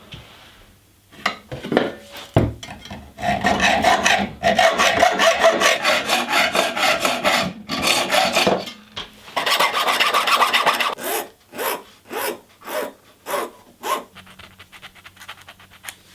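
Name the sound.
filing burrs off cut brass tubing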